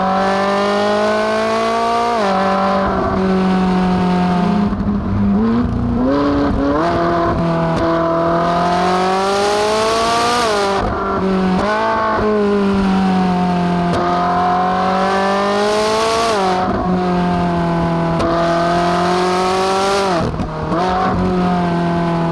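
A Ferrari 458 Italia accelerates hard along an open road, its engine rising and dropping through gear changes in repeated loud sweeps, close and continuous with no voices.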